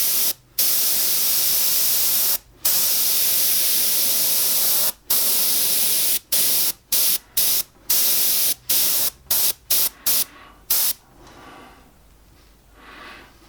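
Airbrush spraying a fine mist of paint onto a realistic portrait, a steady loud hiss in repeated bursts broken by brief pauses, growing shorter and choppier before trailing off into quiet.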